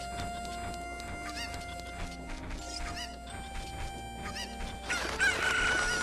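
Cuckoo chickens in The Legend of Zelda: Ocarina of Time cluck and squawk repeatedly over steady game background music, ending in a louder, noisy burst.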